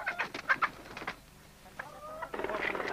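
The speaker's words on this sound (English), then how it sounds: "As for the chickens, they've now become free range." Free-range chickens clucking nearby in a farmyard, several bursts of quick clucks and squawks at the start, a short pause, then more clucking and calls toward the end.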